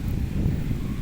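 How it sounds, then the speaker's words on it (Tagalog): Strong wind buffets the microphone, a continuous low rumbling roar with no voices. "Kusog ng hangin."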